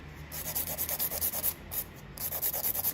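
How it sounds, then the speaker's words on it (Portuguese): Fine rhythmic rasping of a file sanding the straight tip of a fingernail, quick close strokes in a steady series with a brief pause, soft and alone. "Vou começar lixando a ponta reta."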